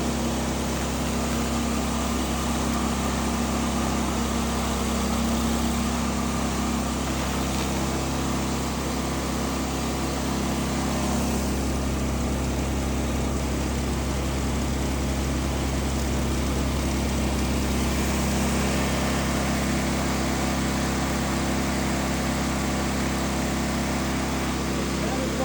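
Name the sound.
stump grinder grinding tree stumps down to ground level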